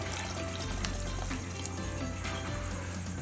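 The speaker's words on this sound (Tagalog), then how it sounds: "Now we're gonna put on a cup of mineral water." Mineral water poured into a carbonara sauce of cream and grated cheese, a steady close liquid pour running continuously for a few seconds with no talk.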